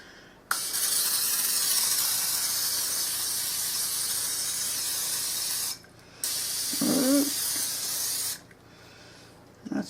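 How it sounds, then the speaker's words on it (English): Cooking spray hisses steadily onto a casserole pot in one long burst of about five seconds, then a short pause and a second shorter spray, close and fairly loud. "I'm going to spray it."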